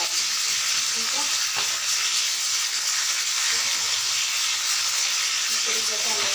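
Pieces deep-frying in hot oil make a dense, steady crackling sizzle that holds at an even loudness throughout, with occasional faint utensil knocks underneath.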